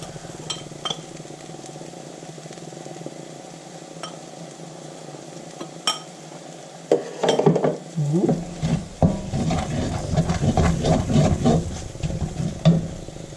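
Chickpea flour cooking in a pan, quiet sizzling at first, then a spoon scraping and stirring with irregular clinks and scrapes that grow louder in the second half.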